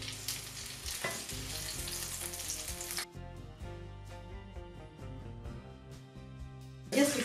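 Chopped chicken cutlets with vegetables fry in oil in a pan. A loud, dense sizzle fills the first few seconds, then gives way to quieter background music once the pan is covered.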